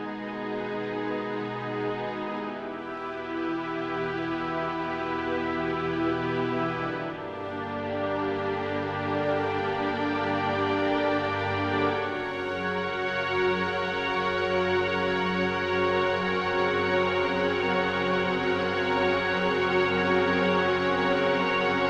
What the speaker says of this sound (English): Take, for instance, the Roland SRX Orchestra